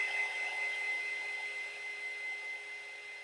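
A heat gun blows a steady, high-pitched whirring stream of hot air over a tumbler, continuous and fairly close for the whole stretch, with no talking.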